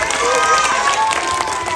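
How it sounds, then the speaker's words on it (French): A live audience applauds and cheers for two champions at a water-themed game show event, a dense, steady wash of clapping held at full level throughout, with crowd noise mixed in. "Attention, on va applaudir nos 2 champions."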